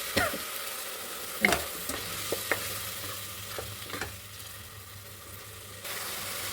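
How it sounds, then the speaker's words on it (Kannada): Ground masala sizzles and fries in a pan for basmati veg pulao while being stirred, a steady close hiss broken by a few sharp scrapes and taps of the spoon. "ಇವಾಗ ರುಬ್ಬಿರೋ ಅಂಥ ಮಸಾಲೆ ಹಾಕ್ತೀನಿ. ಅದು ಒಂದು ಹಸಿ ವಾಸನೆ ಹೋಗೋವರೆಗೂ ಸ್ವಲ್ಪ ಫ್ರೈ ಮಾಡ್ಕೋಬೇಕು."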